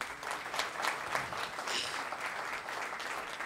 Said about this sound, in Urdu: زوردار تالیاں ان کے لیے بجائیں.